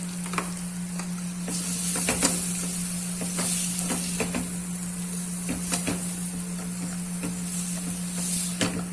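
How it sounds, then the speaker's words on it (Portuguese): Diced mirepoix sweating in 20 grams of butter in a pan, a steady close sizzle with small crackles and stirring taps throughout, alone without talk. "Coloquei 20 gramas de manteiga e nós vamos suar o nosso mirepoix."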